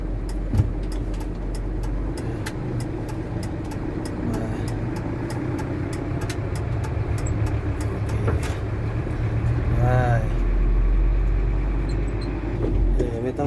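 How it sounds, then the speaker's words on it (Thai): A car engine rumbles steadily up close as the car slows almost to a stop and shifts into second gear, with a brief change in engine tone near the end and a faint voice at times. "เหยียบคานแล้วก็ชะลอให้เกือบหยุด เบาๆเลยชะลอยชะลอให้เกือบหยุด แล้วก็ใส่เกียร์เปลี่ยนเป็นเกียร์สอง"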